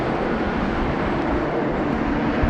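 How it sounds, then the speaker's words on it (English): A Qantas Boeing 737 taxiing at Sydney Airport at night gives a steady, broad jet engine roar, constant and moderately distant, with no voices over it. "Qantas 737 just rolling there in the background"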